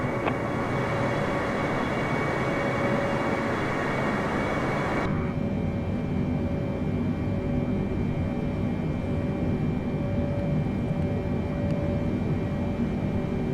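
The engines of a Boeing 747 at about 65% throttle in Microsoft Flight Simulator make a steady, droning roar with a constant tonal whine. Partway through, the sound drops to a duller, muffled hum with no talking.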